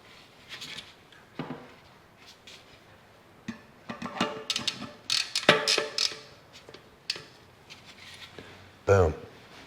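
An SRAM Explorer 10-44 cassette is fitted onto an XD driver with a run of light metallic clicks, ticks and ratcheting rattles, growing busier midway and ending in one louder clunk.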